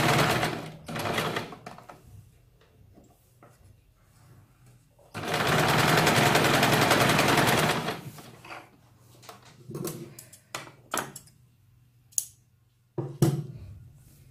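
A sewing machine runs a straight line of stitching along the folded edge of a slip petticoat, one steady whirring burst of about three seconds set among quieter handling and fabric clatter.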